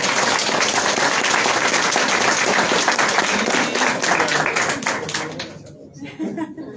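Audience applause for a woman scientist after a talk on women in science, loud sustained clapping from a crowd that tapers off toward the end, with some voices and light laughter mixed in.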